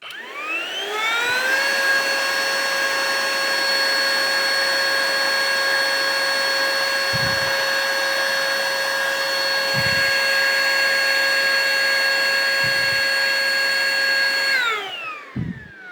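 Mellif cordless blower and duster, a DeWalt-style tool, running on its low setting: a loud, steady high-pitched whine that spins up at the start, holds evenly with a few faint knocks, then winds down.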